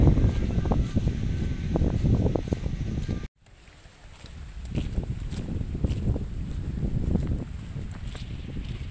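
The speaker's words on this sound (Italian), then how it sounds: "Che vento, state sentendo anche voi" Strong outdoor wind buffets the microphone of a Realme 7 5G phone filming in 4K, giving loud low rumbling gusts that drop out briefly, then a steadier roar with faint background noise.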